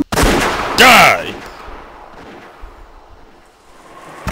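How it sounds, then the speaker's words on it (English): A single loud gunshot rings out in the Umineko visual novel, a sharp crack followed by a ringing, whistling tail, then a quieter lingering rumble and faint background noise. "Gunfire."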